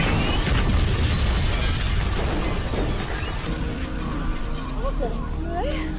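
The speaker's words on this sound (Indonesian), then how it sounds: "bom pun meledak yang membuat Patrick terpental" A loud explosion bursts with a heavy, sustained roar of debris and noise, then fades into rumbling with a voice speaking faintly beneath.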